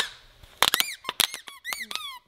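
A squeaky puppy toy is squeezed again and again, giving a quick run of sharp, high squeaks in an uneven rhythm, close and loud, with no talk.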